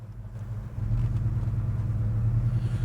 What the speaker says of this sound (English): that beautiful noise coming out of those exhaust pipes